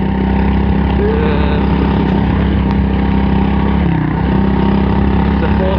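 An M2R KX110F four-stroke, four-speed pit bike engine runs close by in a loud, steady, droning hum that barely changes throughout.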